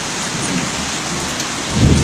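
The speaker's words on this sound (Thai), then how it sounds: "โอ้ยฝนตกเลย" Steady rain pours down at an outdoor party meal, a dense continuous hiss with low rumbling underneath, swelling slightly louder near the end.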